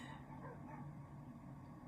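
A dog barks and yips somewhere in the background, faint and muffled, repeated short calls over a low steady room hum.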